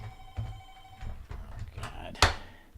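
A telephone rings in short repeated bursts with faint electronic tones, mixed with speech and a sharp clatter near the end.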